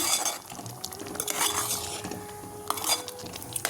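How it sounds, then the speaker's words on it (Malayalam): Eggplant being stirred into a Kerala-style prawn curry in a pan: repeated spoon scrapes and clinks against the metal over a faint simmer, close by and with no one talking. "നമുക്കൊന്ന് ഇളക്കി കൊടുക്കാം"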